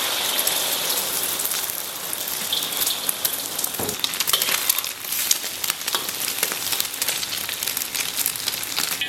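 Beaten egg hits smoking-hot oil in a wok, setting off a dense, crackling sizzle with spitting pops, a sharper burst partway through, and a continuous loud hiss with no voices.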